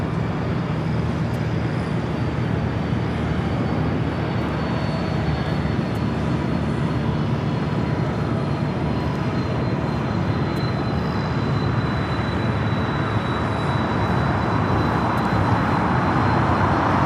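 An Air Tahiti Nui Boeing 787-9 Dreamliner arrives at Los Angeles International from Papeete, producing a constant broad jet rumble and rushing hiss that holds steady and fairly loud throughout, with a faint high whine running over it.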